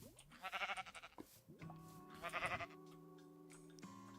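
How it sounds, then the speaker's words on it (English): Woolly sheep in the Minecraft World Forge modpack bleat twice, each a wavering, nasal call rising out of quiet, the second one followed by a thin lingering tone. "You get woolly sheep as well. There they are. Look at the woolly sheep."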